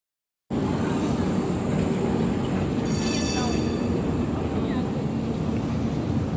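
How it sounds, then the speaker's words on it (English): Trams stuck in a traffic jam in Prague rumble steadily and loudly up close, with a brief high wheel squeal partway through amid city street noise. "Bit of a tram traffic jam."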